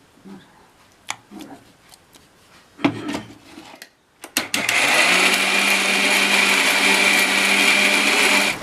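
A mixer grinder grinds Bombay chutney, starting after a few clattering handling knocks and then running as a loud, continuous, close-up whir for the rest of the time.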